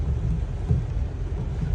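Steady, dense rumbling roar of heavy rain, continuous and fairly loud throughout, with no voices.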